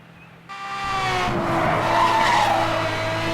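A Lamborghini drifts through a long slide in Need for Speed Hot Pursuit Remastered, the tires squealing loudly and continuously under a steady engine drone after an abrupt start, with no talking over it.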